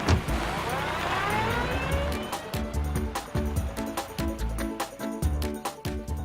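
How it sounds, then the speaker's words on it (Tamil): A road vehicle's engine hums under a moving, reversing manoeuvre, joined by repeated clattering knocks and bumps as it is turned around nearby. "நீங்க வண்டியை திருப்பி எடுக்குங்க"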